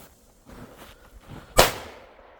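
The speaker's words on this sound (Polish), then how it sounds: "Odpalamy Blitz Rams Mini." A single sharp crack of a Blitz Rams Mini firecracker goes off outdoors after a few quiet seconds of fuse fizz and faint rustling, then fades quickly.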